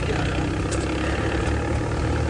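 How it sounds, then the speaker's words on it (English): Tractor engine runs on a safari drive, a close, loud, steady low-pitched diesel drone without a break. "I could not hear you over the sound of the tractor"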